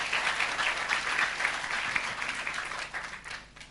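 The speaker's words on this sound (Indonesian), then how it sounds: "Berikan tepuk tangan buat Tuhan." Church congregation applauds for God, a dense, even patter of many hands that holds steady before tapering off at the close.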